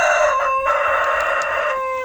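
A white rooster, raised from a chick, crows loudly and close by in one long sustained call that fills the whole moment.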